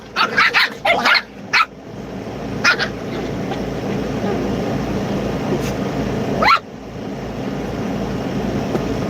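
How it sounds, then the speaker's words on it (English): Puppies let out a cluster of high yapping barks, then a few scattered yips over a constant background rumble. "Now at least they sound like little dogs."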